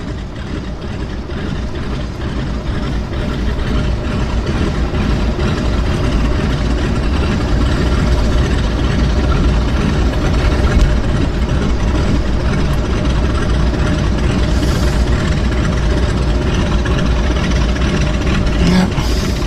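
A steady, rumbling radial engine on a floatplane idles continuously, loud and close, with an uneven throbbing low burble and no voices, at a float plane base in Vancouver.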